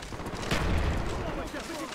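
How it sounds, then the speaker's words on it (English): Flash grenades go off in Black Ops 1, a dense burst of booming, muffled blasts swelling near the middle before fading into steady game noise, with a person talking over the action. "What about those fucking flash grenades?"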